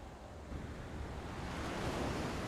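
Steady surf washing onto a beach in the game Isle of Jura, a soft continuous hiss of breaking waves with a faint low wind rumble, slowly swelling, with no voices.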